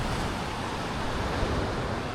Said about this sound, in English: Hear the water, so peaceful